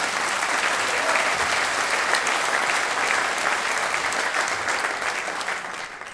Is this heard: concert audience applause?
yes